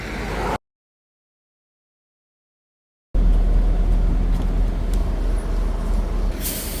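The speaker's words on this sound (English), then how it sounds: "we're sitting here at the bus terminal" Steady traffic rumble at a Maui bus terminal near the Kahului cruise port, continuous low engine noise with a brief dropout early on, no talking.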